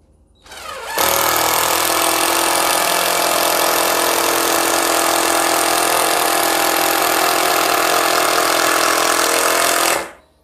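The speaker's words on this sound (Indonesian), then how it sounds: "ini lebih lama pastinya karena memang impact driver 12 volt ini dikhususkan untuk kayu lunak maupun multiplex, blockboard" Mollar 12-volt cordless impact driver sinking an 8 cm screw into softwood, a loud continuous rattling hammer whir that starts abruptly, holds for about nine seconds, then stops.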